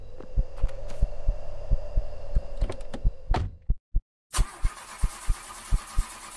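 A car engine in a video game hums steadily under rhythmic thumping beats, then cuts out to near silence before resuming with a louder, broader roar as the car drives away.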